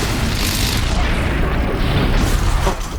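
A heavy, booming bomb blast in the video game Horizon Zero Dawn, a dense rumbling roar that fills all three seconds with a brief surge near the end.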